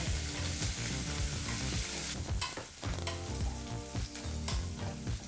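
Curry leaves and green chillies frying in hot oil for a curd rice tempering, a dense, steady sizzle with crackling pops and occasional stirring scrapes, close and loud with no talking.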